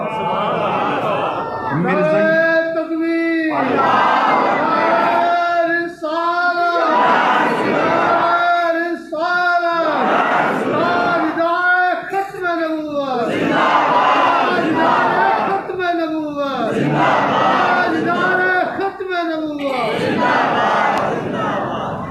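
A large crowd chants the religious slogan Nara-e-Risalat at a Khatam-e-Nabuwwat gathering, loud and close, in rhythmic repeated bursts of many voices with short gaps between each shout.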